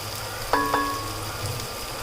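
Onions and spices sizzle softly in a pan as they are sautéed for a shark fish curry, with a couple of sharp clinks of a utensil near the start and a faint steady frying hiss throughout.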